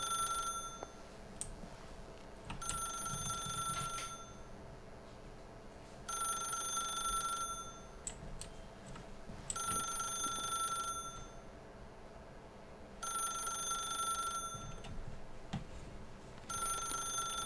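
An old-style telephone in The Stanley Parable office game rings in repeated bursts of about two seconds, separated by short pauses, over a low background hum. No one speaks.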